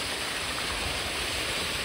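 Water pours steadily from three sides of a decorative aquarium feature in Konkan, producing a continuous, even splashing rush with no pauses.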